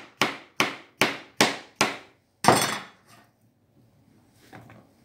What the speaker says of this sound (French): là je découpe en rondelles mes bananes de Guadeloupe